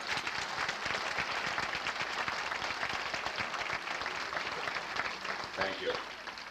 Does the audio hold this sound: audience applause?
yes